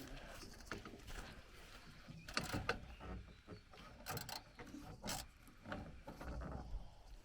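Old, stiff bolts being undone with a socket on the front of a Daewoo Lublin van during teardown, giving scattered scraping, rasping metal creaks and knocks at close range, with no talk.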